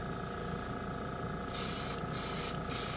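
Seymour Extreme FX chrome spray paint hisses from an aerosol can in close bursts, a long spray followed by two shorter ones over a steady low background hum.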